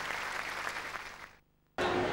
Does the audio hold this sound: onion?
no